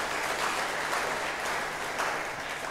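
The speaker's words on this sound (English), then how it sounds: "Let's give him a better clap for that." A church congregation gives sustained, even applause during a Sunday service, a dense wash of clapping with no talking over it.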